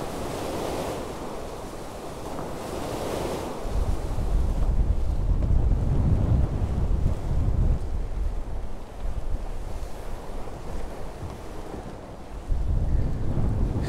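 Strong wind roars and water rushes along the hull of a new Outremer 52 sailing catamaran moving fast at around 11 to 13 knots, a loud, steady wash that surges in waves with no talk.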